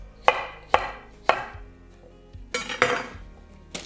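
Unpeeled fresh potato slices dropped onto a metal baking tray land in sharp, distinct clacks, three evenly spaced knocks followed by a quicker cluster of thuds, close and clear with no talking.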